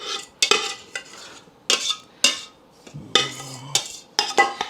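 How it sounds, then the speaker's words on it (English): A utensil scrapes and clatters against a pan as an andouille sausage casserole mixture is pushed out into a casserole dish, in several short, distinct bursts of metallic scraping with brief pauses between them. "Scrape all the goodies out of the pan."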